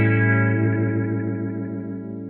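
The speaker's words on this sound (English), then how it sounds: "and if I set it to fast, it's going to get there a lot quicker." An electric guitar chord rings out through a Line 6 Helix Leslie rotary-speaker effect set to fast ramp, its sustained tone swirling and wobbling as it slowly decays, alone and fairly loud.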